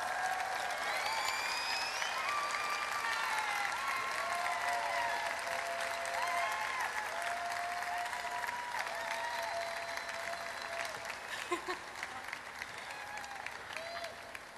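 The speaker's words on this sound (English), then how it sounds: "And let's welcome them with a warm round of applause." Steady warm applause from a large audience at a youth festival panel event, continuous across the whole stretch, with background music or tones running beneath and a few louder claps near the end.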